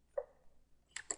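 Three quick, faint computer mouse clicks come close up in a quiet room during work in 3D pipe design software, one click followed after a short pause by two more.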